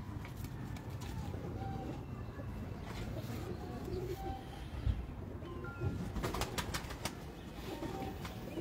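Pigeons kept by breeders coo softly in low, rolling throaty calls, repeated throughout at a moderate distance, with faint chirps and rustling in the background and occasional quiet voices.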